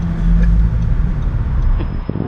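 A Porsche GT3 fitted with a full iPE F1 exhaust rumbles close by on a street, a loud, deep engine burble over about two seconds, ending in a sharp crackle.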